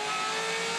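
A Touring Car Masters race car from 2016 at Winton screams on its rev limiter, a steady, loud, harsh engine drone held for under a second with no other sounds.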